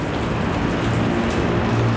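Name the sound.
rain starting to fall in Bangkok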